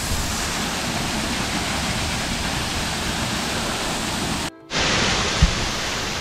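Waterfall at Choukori in Uttarakhand, a steady broadband roar of falling water that fills the whole clip, broken by a sudden brief dropout near the end before the rushing resumes.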